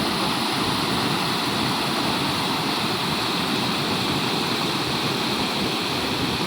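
Torrent of mountain runoff pouring straight down from the hills during heavy flooding, a steady, loud, close roar of rushing water that fills the whole clip without letting up.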